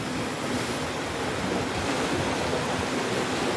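Sea waves and wind on the coast of Madang province, Papua New Guinea, where small boats struggle out to open water: a loud, constant roar of surf and gusting air with no one speaking.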